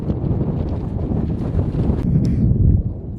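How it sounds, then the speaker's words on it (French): Strong wind roars across the Col de Balme mountain pass on the OCC UTMB 2023 trail race route, a steady, loud gusting rumble buffeting the microphone from start to finish. "Il y a toujours du vent ici, il y a un vent de dingue là. Col de Balme, gros vent."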